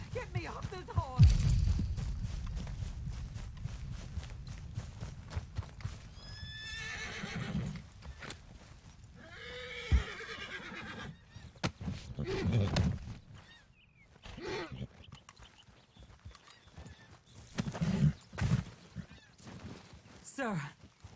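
A horse neighs and whinnies several times amid clip-clopping hooves and scattered voices in the video game Red Dead Redemption 2, with loud bursts separated by quieter stretches.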